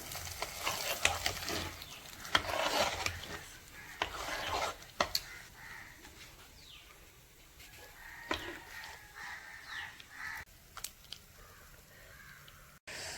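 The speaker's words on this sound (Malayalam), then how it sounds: "കപ്പയ്ക്കകത്ത് ഇട്ടിട്ട് കണ്ടോ നമുക്കൊരു ഇളക്കം ഇളക്കാം" Tapioca curry with papaya and taro stirred in a pot, with intermittent scraping and soft sizzle while crows caw repeatedly nearby outdoors.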